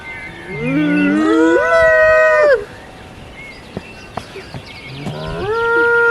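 A cow on an off-grid island lets out a long, loud, rising moo nearby, then a second moo begins after a quiet pause with faint background sounds.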